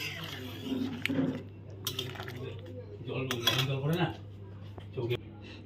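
A cooking pot of boal fish head curry with potatoes is lifted off the stove, setting off a few faint metallic clinks and clatters against a quiet kitchen background.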